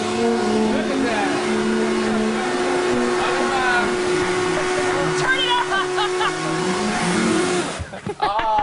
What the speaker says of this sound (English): Get that turbo moving.